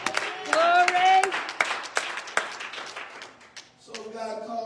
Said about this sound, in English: would you clap your hands to the Lord?